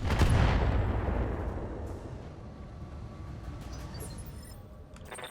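Heavy mech weapons fire in a BattleTech battle, a loud booming impact at the start decaying into a long rumbling roar with crackling, no talk.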